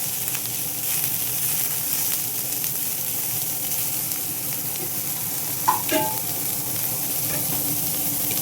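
Onion sizzling in hot oil in a pan for a brinjal curry, a steady frying hiss with a few spoon scrapes and clinks against the metal midway, no talking.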